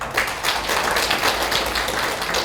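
Applause from a gathered audience welcoming a city council member at a party members' meeting in Pohang, steady clapping that carries evenly through the whole stretch at moderate loudness.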